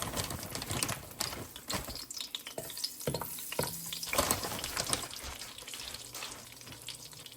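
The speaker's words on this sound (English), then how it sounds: "It's starting to sizzle a little bit." Chicken nuggets frying in hot oil, giving a steady crackling sizzle with scattered sharp pops throughout, close and moderately loud, with no talking.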